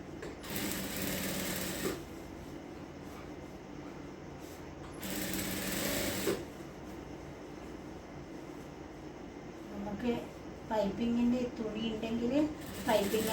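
A sewing machine stitches a supermarket bag in two fast whirring bursts with a quiet pause between them, and a person talks nearby.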